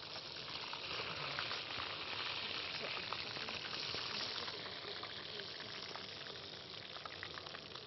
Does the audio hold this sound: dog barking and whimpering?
no